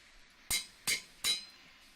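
A Minecraft hammer block in the FTB Infi-Tech 2 modpack processes lithium dust, giving three sharp, bright metallic clinks spaced about a third of a second apart, close and crisp against near silence.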